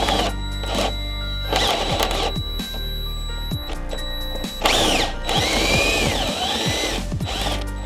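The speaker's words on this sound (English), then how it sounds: "you should be able to drill out the bolt" A power drill whines and grinds in bursts, its motor pitch rising and falling as it drills out a metal bolt on a BMW rear subframe, loud and close.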